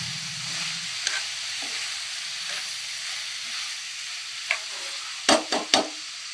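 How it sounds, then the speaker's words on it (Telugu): Soft steady sizzle of vegetables and tomato frying in a pan for vegetable pulao, with occasional light stirring scrapes and a few sharp utensil knocks near the end, no talking. "టమాటా కూడా మెత్తగా అయ్యేంత వరకు బాగా కలుపుతూ ఉండాలి"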